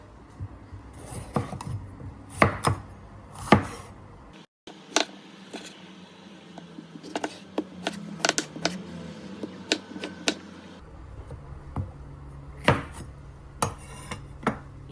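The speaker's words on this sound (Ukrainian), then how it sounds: "наріжемо червоної паприки і помідорки" Red bell pepper and tomato being chopped with a knife on a board, a run of close, sharp irregular taps and cuts with a brief pause midway, alongside faint clinks of kitchen utensils.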